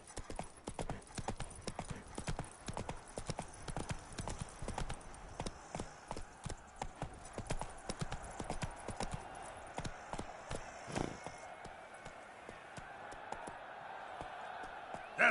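Roach, Geralt's horse in The Witcher 3's Blood and Wine expansion in Toussaint, gallops with fast, close, rhythmic hoofbeats that carry on steadily and then thin out into a slower pace toward the end.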